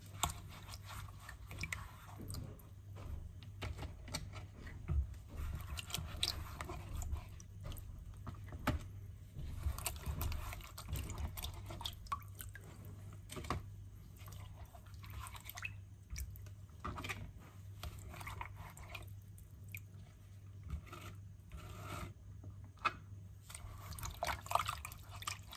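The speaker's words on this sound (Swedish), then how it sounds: "nu ska jag skölja auberginerna från saltet i kallt vatten." Salted aubergines rinsed in cold water, with a steady run of faint, close drips and small wet splashes and handling noises continuing throughout, no voices.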